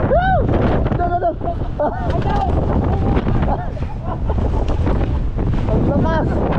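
Strong wind buffets the microphone in a continuous loud rumble on open flat ground beside a motorbike, while several people shout and talk excitedly over it throughout.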